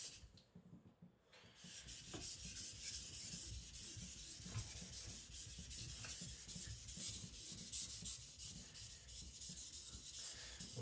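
A custom Chinese cleaver of 52100 steel rubs steadily over natural whetstones, a continuous close gritty scraping in quick back-and-forth strokes that runs almost unbroken after a short pause at the start, with no talk.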